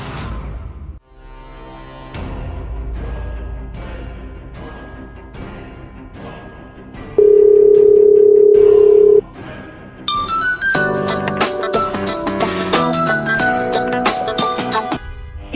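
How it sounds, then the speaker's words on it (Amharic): An unanswered phone call gives a run of evenly spaced ringback tones, followed by a steady electronic beep. After that a bright, melodic ringtone plays on loudly to the end, and no one speaks. "የደወሉላቸው ደንበኛ ስልክ አይመልስም።"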